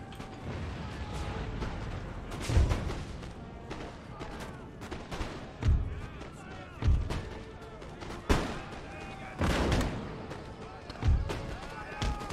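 Cannons thunder across a Prussian army battle in Empire: Total War, a series of heavy booms every second or two, some near and some distant, with a steady battlefield rumble and someone talking over them.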